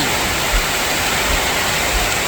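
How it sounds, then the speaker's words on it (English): Heavy rain falls in the desert as a steady, loud, broadband hiss of downpour with no letup, close and continuous. "It's raining in the desert."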